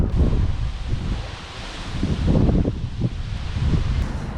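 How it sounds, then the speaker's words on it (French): Strong gusting wind in Normandy buffets the microphone in loud, rumbling waves, surging and easing over a few seconds with no voices. "je voulais vous montrer le vent ici, il y en a marre."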